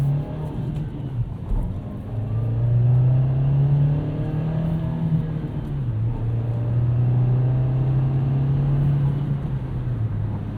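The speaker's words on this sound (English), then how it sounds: "A lot of rev hang." A 2024 Nissan Versa with a 5-speed manual gearbox revs up inside the cabin. The engine drone climbs, holds with noticeable rev hang, dips briefly during a shift, then climbs and holds again. It is loud and steady with no talking.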